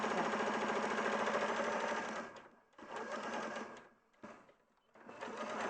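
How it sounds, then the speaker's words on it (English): A hand-cranked sewing machine stitching fabric, an old-style manual crank in place of a foot pedal, giving a close, steady mechanical whirring chatter that stops briefly twice and then resumes, with no talking. "Hand cranking is actually doing exactly what the machine does, but instead of pushing your foot onto the pedal, you're actually turning it manually"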